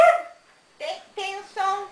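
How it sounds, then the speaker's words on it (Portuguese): A dog gives a short high yelp, then three quick barks in a row, fairly close and moderately loud. "Parece que ela afina o latido, parece."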